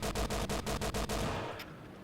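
Tank machine gun fire in World of Tanks from a Panzer II J, a steady rapid burst of about ten evenly spaced shots over a low rumble, ending with a fading tail.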